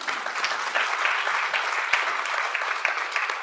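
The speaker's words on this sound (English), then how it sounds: "you can all clap for the Kumaras" Close, lively clapping from a gathered audience runs for a few seconds as people applaud a couple named the Kumaras, with a few sharper individual claps standing out.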